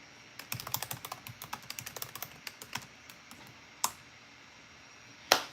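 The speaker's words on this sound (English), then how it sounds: "So let me type that here." Fast bursts of computer keyboard typing, close and crisp, followed by a pause and two louder isolated key strikes near the end, with no voices present.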